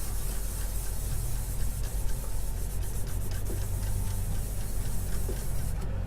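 Sandpaper worked by hand across the spalted maple top of an Ovation CE44P acoustic guitar, a continuous soft hissing rub with faint ticks, steady and close with no talking.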